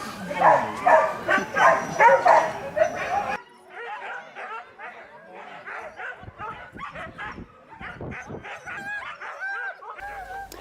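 Working dogs near a trailer bark in an excited, rapid volley close by, then continue with scattered yips and whimpers at lower volume, while a person speaks briefly in the background.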